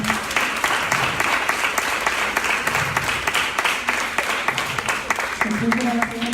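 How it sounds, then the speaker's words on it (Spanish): Audience applause welcoming panelists at a student journalism panel, a steady, even clapping from a crowd that holds for the whole clip before easing near the end, with a voice briefly heard over it. "Un aplauso y bienvenido a nuestros panelistas."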